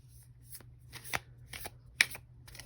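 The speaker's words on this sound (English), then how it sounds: "Let's shuffle with intention." Quiet riffling and soft slaps of a tarot card deck being shuffled, several short bursts over a low steady hum.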